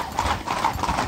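Horses' hooves clip-clopping on a group ride of about twenty horses near Chilham Castle, a quick, steady rhythm of several close hoofbeats overlapping in near-regular clops.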